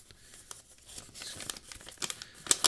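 Tape ripped off a mail package with quick crinkly tears and crumpling, building to loud sharp rips near the end, close up with no talk.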